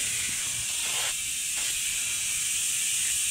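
Starting fluid sprayed from an aerosol can into the gap between a skid steer tire and its rim: a steady, bright hiss held throughout, close and moderately loud, with a few faint clicks and knocks underneath and no talking.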